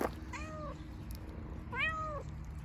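A sick pet cat meows twice, a clear drawn-out call near the start and a second, louder one about a second later, close by in a quiet room.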